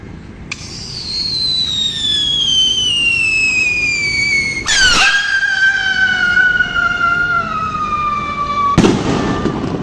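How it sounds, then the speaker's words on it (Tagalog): A two-stage WR Salute firecracker fired outdoors: a long rising whistle sweeps downward for several seconds, then a sharp burst, a second descending whistle, and a final loud bang near the end. "Stage WR Salute test fire."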